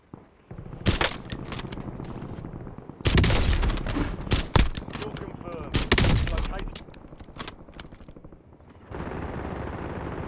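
Gunfire from a Kar98k rifle in Call of Duty: Warzone rings out in loud bursts amid other shooting, with sharp cracks separated by short gaps and a voice talking in between.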